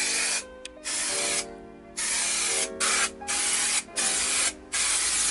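Trim fix adhesive sprayed from an aerosol can onto a panel inside a T25 campervan during sound deadening: several hissing bursts of varying length, close and fairly loud, separated by short pauses with no talk.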